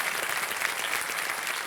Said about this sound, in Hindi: तो इनका स्वागत एक बार कर देते हैं तालियों के साथ।